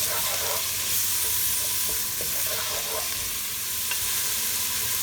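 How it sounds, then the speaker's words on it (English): Tomatoes simmer in minestrone soup broth in a pot, giving a steady, close sizzle and bubbling hiss with occasional stirring sounds and no voices. "To this now I'm going to add my tomato and let it simmer at least for 2 minutes."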